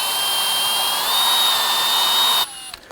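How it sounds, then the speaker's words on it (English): A power drill boring a pilot hole through the middle of a front ABS wheel speed sensor on a Nissan Frontier, a loud close steady whine that stops abruptly near the end. "we're going to start by doing a little pilot hole here through the middle of the sensor"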